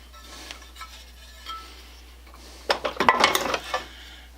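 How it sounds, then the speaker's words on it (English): Metal hand tools being gathered up after a broken-bolt repair on an old Mac Timber Bear chainsaw, a cluster of sharp clanks and clatters near the end after quieter scattered knocks. "Now I got to pick up my tools"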